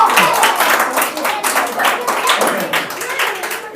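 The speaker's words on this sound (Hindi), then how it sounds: "ताली हो जाए उसके लिए।" Classroom clapping during a Hindi grammar lesson, a dense burst of many hands applauding together, loud and continuous for a few seconds with voices mixed in.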